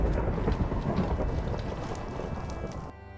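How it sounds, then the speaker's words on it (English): A thunderstorm rumbles and rain patters steadily in the video game Minecraft as lightning strikes. The roar is dense and continuous, then cuts off abruptly near the end. "I was even jump scared by lightning when I placed my glass."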